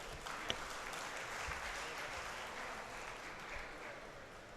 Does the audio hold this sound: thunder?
no